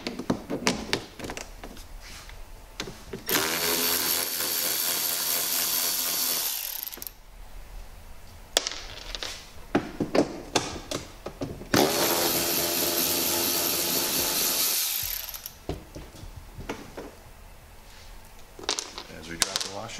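An air ratchet spins out 10mm bolts from underneath a split case, coming in two sustained whirring bursts of a few seconds each, with tapping, clinks and handling noise between them.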